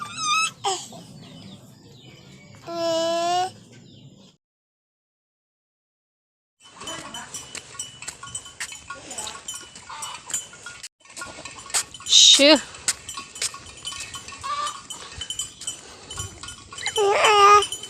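Several goats on a hillside mountain farm bleat in loud, wavering cries at intervals, one early and others later in the clip, with people talking in between and rustling, clattering farmyard noise.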